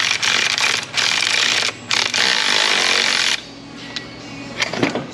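Ratchet clicking as a bolt is tightened on the water pump of a 1995 Jeep Wrangler 4.0, loud, close bursts of rapid mechanical ratcheting with short pauses, fading to faint handling noises near the end.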